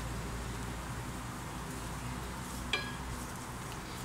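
Shallots sautéing in a little oil in a pan, a steady soft sizzle throughout with one brief metallic clink of a utensil partway through.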